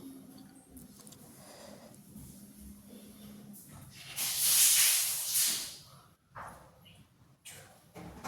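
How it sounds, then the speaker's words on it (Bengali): Onion, ginger and garlic paste sizzles in a pan on a clay stove, a steady faint fry that swells into a loud hissing burst for a couple of seconds before settling back, with a voice speaking softly underneath. "ভালোভাবে মশলাগুলো আমি কষাইয়ে নিচ্ছি।"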